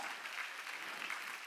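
A church congregation clapping during a Sunday worship service in Incheon, a brief, dense patter of many hands applauding together, fairly distant and soft in the room.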